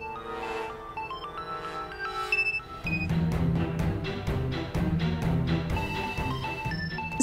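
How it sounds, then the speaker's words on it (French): A mobile phone ringtone plays as a bright melodic tune, starting lighter and then swelling into a fuller, louder, rhythmic pattern that repeats steadily, with no talking over it. "Satya, ton téléphone sonne."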